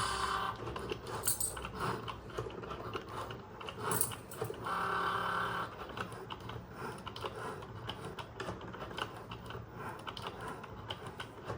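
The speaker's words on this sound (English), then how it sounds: "So the cut has been started." A Cricut Joy cutting machine slices through card stock, giving a steady mechanical whir with clicking, ticking movements and brief louder motor passages, close and continuous throughout.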